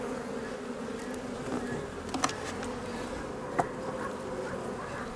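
Honeybees buzzing around an open hive at an apiary, a steady droning swarm close by with a few louder bees passing near, and no talking.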